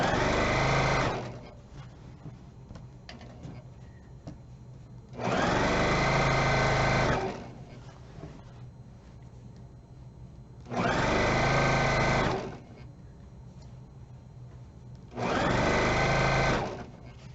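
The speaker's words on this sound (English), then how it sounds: "Okay, now my machine's threaded." A sewing machine stitches binding in four loud bursts of a few seconds each, separated by quieter pauses with faint background sound.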